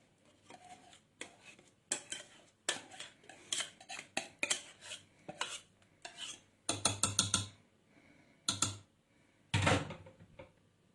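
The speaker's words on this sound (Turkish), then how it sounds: "Makarnamızı ve beşamel sosumuzu güzelce karıştıralım" A utensil scrapes and clinks against a pot in irregular bursts, stirring pasta with béchamel sauce, with thick, sticky sounds and sharper knocks on the rim, close up.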